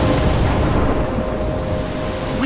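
Stormy weather in the video game Life is Strange, a steady broadband roar of rain and wind with low rumbling, continuous and fairly loud throughout with no voices.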